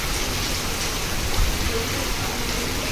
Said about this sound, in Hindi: यहाँ मालूम पड़ रहा है पानी कितनी तेज़ है ड्रम में